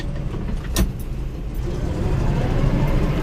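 A truck engine idles steadily just after fresh oil, a low rumbling hum with a couple of brief sharp clicks early on, heard close and without speech.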